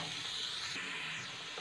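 Chicken pieces fry in a pan with ginger garlic paste, giving a steady close hiss and sizzle that holds throughout.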